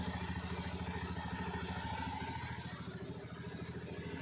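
A Honda Scoopy FI scooter engine idling steadily after an ignition repair, a close, even mechanical putter with a fast regular pulse and light clatter that continues without a break.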